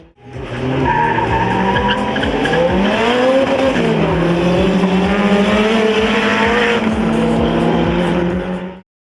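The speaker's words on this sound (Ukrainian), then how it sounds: "Мова не про літаки, а про автомобілі, які майже відривалися від злітної смуги" Drag racing cars at an airport runway race in Poltava roar loudly, engines climbing and shifting through rising harmonics, with tire squeal over a continuous, near, sustained run.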